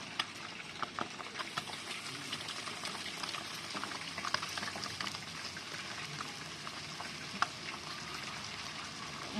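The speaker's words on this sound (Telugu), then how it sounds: "ఇప్పుడైతే ఫ్రై అయింది ఇప్పుడు నూడిల్స్ అయితే వేసుకుంటాను" A steady, fairly faint frying sizzle and bubbling fills a pan as noodles are added, with small scattered clicks and crackles throughout and no talk.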